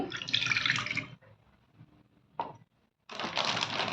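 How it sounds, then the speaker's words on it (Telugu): Water pours into a bowl in two close, steady gushes, split by a quiet pause with one brief knock. "ముందుగా ఒక గిన్నెలో నీళ్లు తీసుకోండి"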